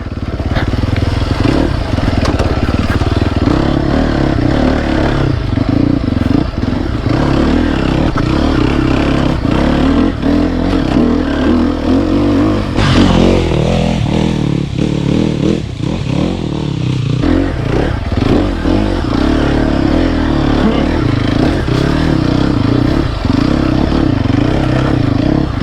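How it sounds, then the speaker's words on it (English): A 2020 Sherco 300 SEF Factory motorcycle with a 304cc four-stroke engine is ridden off-road. Its engine drones loudly and continuously for the whole stretch, with revs rising and falling and some rattling and scraping. "The engine in this bike is just fantastic. It's a 304cc 4-stroke, obviously."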